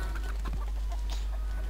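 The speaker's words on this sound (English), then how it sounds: "Yeah, you can already hear chickens screaming." Chickens clucking in the video game Redneck Rampage, a short burst of squawks and clucks over a steady low hum, fairly close and alone.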